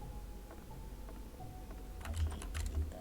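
Computer keyboard keys pressed repeatedly, a cluster of sharp clicks in the second half over steady room hum, fairly close and moderately loud, with no talking.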